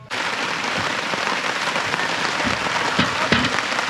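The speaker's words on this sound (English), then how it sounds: "we are now experiencing some very heavy rain" Heavy rain pours down at a canoe campsite on Rock Lake, a dense, steady hiss of drops drumming on surfaces, close and unbroken, with a few louder individual splats.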